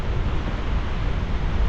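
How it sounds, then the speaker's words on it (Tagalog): Strong ocean surf on a beach rushes and roars steadily at close range, mixed with wind buffeting the microphone, with no voices. "Malakas talaga yung alon, no?"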